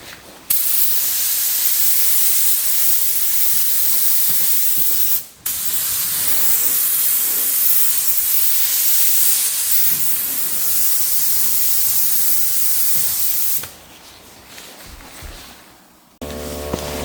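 Mini budget compressor pushing air through a paint spray gun on a partly pulled trigger, a steady close hiss running for about thirteen seconds with one brief break, then fading to quieter noise.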